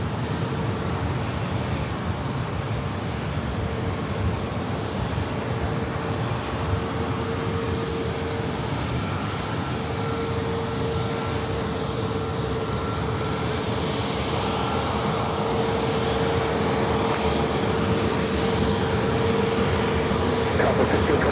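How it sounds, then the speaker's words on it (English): An American Airlines jet takes off from San Diego airport with a steady, loud engine roar that holds and builds slightly over about twenty seconds, a low continuous rumble under a whining tone. "Quick takeoff, American 1951."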